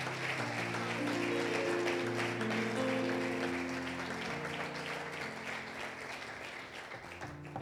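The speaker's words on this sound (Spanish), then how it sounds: "Dale ese aplauso al Señor." A church congregation applauds during a sermon, with sustained clapping from many people under sustained musical tones from a keyboard or organ. The clapping gradually fades toward the end.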